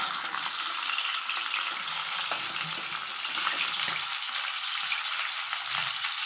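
Chicken pieces shallow-frying in a pan for a chicken malai curry give a steady, dense sizzle throughout, with a few soft stirring or turning touches and no voices.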